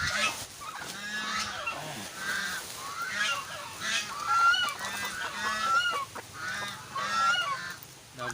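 Hungry Dekalb Brown laying hens clamor loudly while being fed, a dense overlapping chorus of squawks and honking calls that carries on without a break, close by, with no one speaking.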